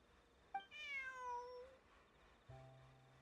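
A cat meows in the video game Genshin Impact, a single drawn-out, falling meow near and clear, followed by a quieter short electronic tone with no talk.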